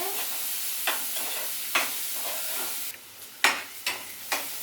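Chillies frying in hot oil with a steady background sizzle and stirring, broken by several sharp crackling bursts and spatters, moderately loud and close.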